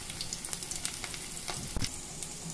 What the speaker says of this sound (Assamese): তেল কেৰাহীত গৰম হৈছে। পিঁয়াজ দি দিছোঁ।